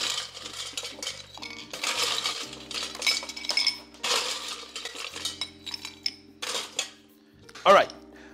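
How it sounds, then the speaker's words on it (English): Ice cubes drop into a cocktail glass for a gin and tonic, giving a run of bright clinks and clatters, with a final louder knock near the end, over a quiet musical background. "So we're gonna start adding some ice."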